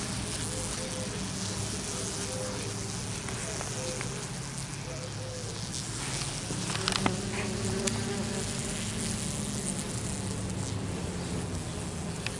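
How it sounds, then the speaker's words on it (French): Vespula wasps hum in a dense, continuous buzz around a nest being built near a lampshade and coat rack indoors, steady and close, with a few faint thumps partway through. "Ici dans ma main, on a une grosse guêpe."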